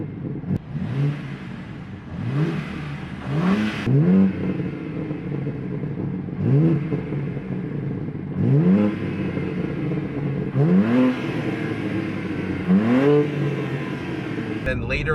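A BMW G80 M3 with stock exhaust and regular downpipes revs up sharply about six times from idle, each rev climbing then falling back, recorded close by.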